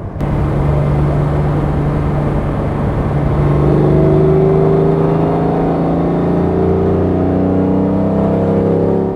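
A 1960 Mercedes 300 SL Roadster (W198) engine runs steadily at close range, a rough, low rumble with a slowly rising hum, loud and continuous with no talking.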